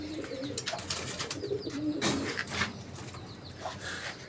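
Several large pigeons coo steadily in a loft, their low throaty calls repeating close by with a few flutters and faint chirps mixed in.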